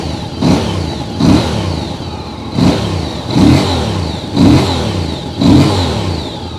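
A Voge R625 motorcycle with a 270-degree crank revs in six evenly spaced blips, each swelling into a deep, loud exhaust burble over a steady idle, close up and without talk.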